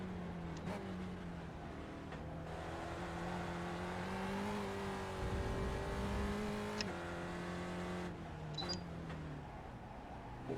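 Spec Racer Ford race car engine at Sebring in the iRacing sim, a steady droning whine that rises and falls in pitch with gear changes and throttle, continuous and fairly loud with no talking.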